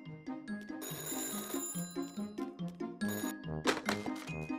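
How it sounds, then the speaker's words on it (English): A telephone bell rings in repeated bursts over light background music, clear and close, with no talking. "The phone is ringing."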